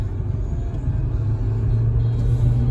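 2014 Nissan Sentra SV with front-wheel drive cruises down the road, a steady low rumble of engine and tires heard from inside the cabin, smooth and continuous with no talking.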